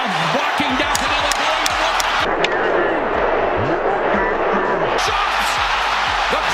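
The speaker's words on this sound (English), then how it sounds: "The crowd erupting." A boxing crowd roars at a Canelo fight against Munguia as punches land, a loud, dense wall of cheering and shouting that holds steady throughout with a brief dip mid-way.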